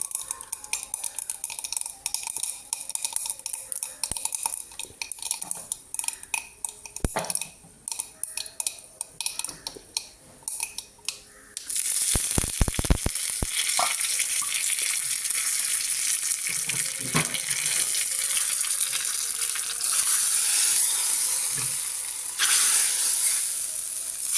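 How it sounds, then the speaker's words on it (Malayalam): Mustard seeds crackle in hot oil for tempering a Kerala pulissery with curry leaves, starting as faint scattered ticks, then turning into a sudden loud burst of sizzling and popping that settles into a steady frying hiss. "കടുക് പൊട്ടി കഴിയുമ്പോൾ അങ്ങോട്ട് ഇടാം"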